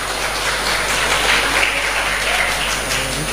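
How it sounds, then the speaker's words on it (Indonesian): Audience applause at a religious organization event on a university campus, a dense, steady roar of clapping with a faint constant hum underneath. "Kasih tepuk tangan dulu."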